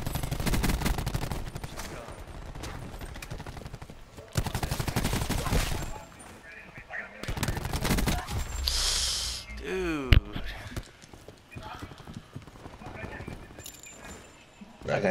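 Rapid gunfire from a P90 and other weapons rattles through a Call of Duty: Black Ops 4 match in dense bursts, mixed with game effects and explosions, while players talk over it.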